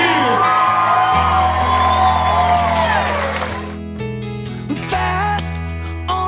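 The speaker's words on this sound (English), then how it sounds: "give yourself a big round of applause" A crowd at a demolition derby whoops, shouts and cheers loudly, with a drawn-out roar that fades and then rises again in bursts of yells and whistles.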